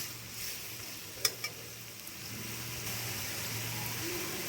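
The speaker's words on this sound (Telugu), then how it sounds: "కొబ్బరి తురుము వేసి 1 నిమిషం పాటే వేయించుకోవాలి" Grated coconut fries in a hot oil tempering, a soft continuous sizzle with a faint low hum and a couple of light clicks from stirring, heard close with no voices.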